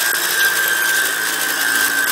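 Steady, continuous whine of a power drill running close by, drilling pins into a concrete water feature shell, with a high sustained tone and no pauses for the whole stretch.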